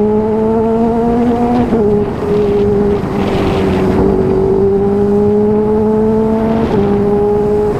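A Kawasaki Ninja H2 motorcycle engine roars steadily and loudly up close, its droning pitch rising and then settling as the throttle swells, with wind noise across the microphone and no talking.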